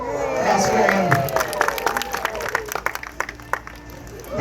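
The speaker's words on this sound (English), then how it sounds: "Let's give her a big round of applause." At a sea lion demonstration at Blackpool Zoo in the UK, a zoo crowd cheers and then breaks into loud, scattered clapping that thins out toward the end. An announcer's voice runs under the start.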